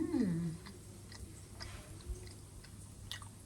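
Someone chews fried potato fingers made with butter and garlic, soft close mouth sounds and faint crunches over a low background hum, after a brief voice at the start.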